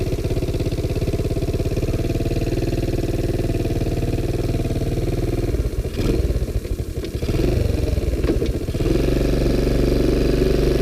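A Sunl 110cc ATV engine runs close and loud with a buzzing, slightly clattery note, dipping and surging as the quad reverses with a clunky transmission, and no one speaks over it.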